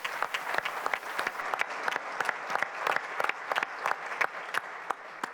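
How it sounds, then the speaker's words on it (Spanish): An audience at an anniversary panel on the Panama Canal bursts into applause, a dense, moderately distant patter of many hands clapping steadily for several seconds with no speech over it. "le damos un fuerte aplauso también"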